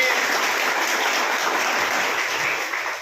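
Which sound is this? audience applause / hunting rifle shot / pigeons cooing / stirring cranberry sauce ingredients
audience applause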